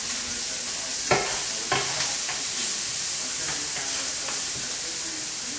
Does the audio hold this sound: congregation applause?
no